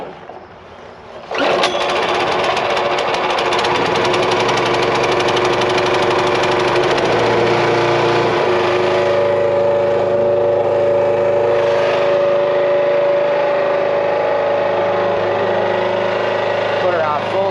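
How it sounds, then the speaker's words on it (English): A firewood log splitter's small engine starts abruptly after a quiet moment and keeps running loudly and steadily, with a rough idling drone and a mechanical knock throughout. "Got electric start on the splitter, but full start on this guy."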